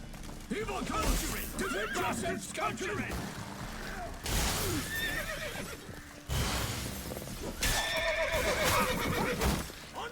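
A horse whinnies loudly several times amid clattering hooves and game-like effects in The Witcher 3: Wild Hunt, with a brief burst of crashing noise in between.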